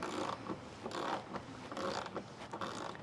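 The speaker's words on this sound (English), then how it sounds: "This is going to be the bolt we're going to be removing on the bottom, and we'll be using a 10mm socket wrench" A 10mm socket wrench ratchets in short bursts as it loosens a bolt under a 2021 Toyota RAV4 during a WeatherTech mud flap install, quick close clicking strokes with brief pauses.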